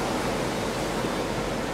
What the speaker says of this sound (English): we have a really good view of the ocean